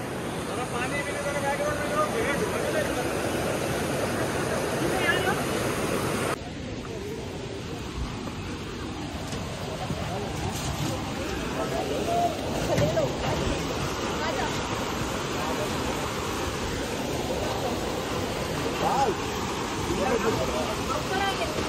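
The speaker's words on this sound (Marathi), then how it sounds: "तुम्ही धबधब्याचा आवाज ऐकू शकता" Steady, broad roar of Devkund Waterfall in monsoon rain fills the clip, close and continuous, with wind buffeting the microphone and a brief change in tone partway through.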